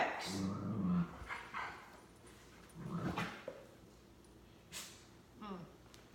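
A dog named Rex gives a few scattered barks, yips and whimpers at moderate distance, spaced out over several seconds with people talking in between.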